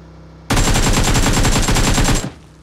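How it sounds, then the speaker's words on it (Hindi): Sustained burst of automatic gunfire in the mobile battle-royale game BGMI, a loud rapid rattle of shots lasting nearly two seconds before cutting off abruptly, with no talking over it. "मैंने गोली चला दी बेकार में।"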